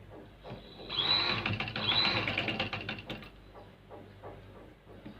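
A sewing machine stitches around a Chinese-style collar, giving a fast mechanical whir with rhythmic clicking that builds, holds for a couple of seconds, then trails off into softer ticks.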